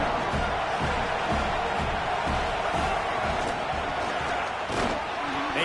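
A stadium crowd roars continuously in an EA Sports College Football video game during a red zone play, with rhythmic thumping chants and bursts of cheering under faint speech.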